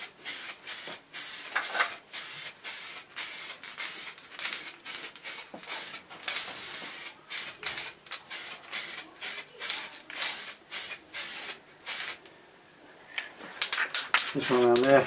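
Frost liquid wrap is sprayed in a steady run of short hissing bursts from a nearby aerosol can, each spray separated by a brief pause, and a clipped clatter sounds at the very end.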